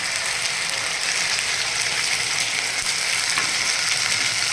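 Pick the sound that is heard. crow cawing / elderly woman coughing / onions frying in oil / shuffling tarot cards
onions frying in oil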